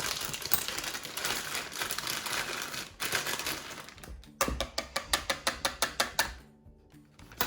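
Plastic piping bag for custard cream doughnut filling crinkling and rustling up close as it is handled, followed by a run of rapid regular clicks that may be a nozzle being twisted on.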